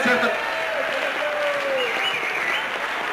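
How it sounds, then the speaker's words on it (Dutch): An audience at a 1987 strongman competition in Friesland applauds the referee, a dense, loud burst of clapping that carries on for about three seconds while a voice talks over it. "Even een goed applaus voor de jong."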